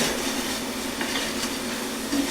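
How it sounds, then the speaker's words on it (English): Almonds being stirred and turned in a sugar and cinnamon mixture for cinnamon roasted almonds, a dense, continuous gritty scraping and rustling, close and steady with no pauses. "just kind of stir these, turn them over a little bit, just to make sure that all the sides get covered with your sugar cinnamon mixture"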